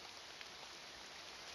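Steady rain falls in a video game called The Weird Lab, a constant broadband wash of fine patter with no breaks, faint and even throughout with no one talking.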